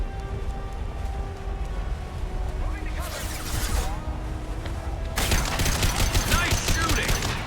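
Weapons fire in Mass Effect 2 builds from a low ambient hum into a burst of rapid gunfire, then a dense, loud fusillade of crackling shots for the last couple of seconds.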